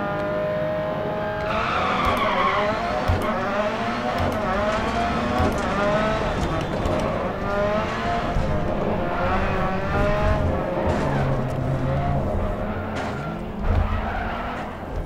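A rally car skids in DiRT Rally, its engine revving and tyres squealing in long wavering sweeps, loud and continuous with little pause.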